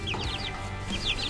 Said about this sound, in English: Here they are, coronavirus chickens.